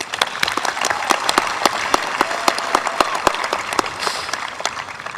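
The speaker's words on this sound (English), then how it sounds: "let's at least start off this speech on a high note with a quick round of applause for us" A graduation audience applauds steadily throughout, dense clapping with sharp individual claps standing out, fairly loud and continuous with no speech over it.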